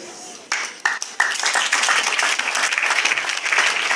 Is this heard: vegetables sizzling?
no